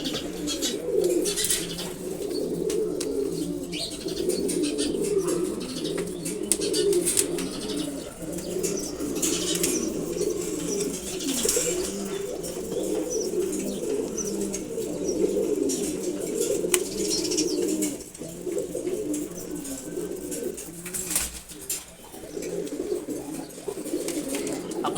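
A male pigeon, a Sobji Gorra breed, coos in repeated low throaty rolls, fairly close, with occasional wing flaps and faint background bird chirps, no talk.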